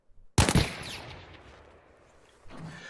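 A Sturmgewehr assault rifle fired in Battlefield V Firestorm, heard as a loud close burst of shots with a sharp attack that decays into a long reverberant tail, followed by a softer thump near the end.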